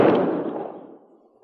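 A funeral detail fires a rifle volley: one loud, sharp burst that rolls out into an echoing rumble and fades over about a second outdoors, with no voices.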